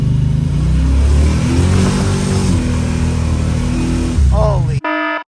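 A 1956 Chevrolet 210 with an 800 hp 532 stroker V8 accelerates hard, its loud deep engine roar building through rising revs before cutting off abruptly, followed by a short burst of speech.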